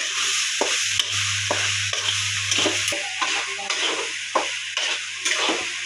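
Red tomato curry with chilli powder being stirred in a frying pan, a steady sizzle broken by repeated scraping strokes of the spoon, close and alone.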